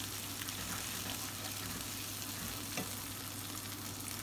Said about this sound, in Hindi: मैंने 10 सेकंड तक इसको भूना।